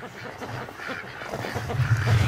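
Molting pet ducks quack in a low, throaty chatter close by, the calls running steadily and growing a little louder toward the end.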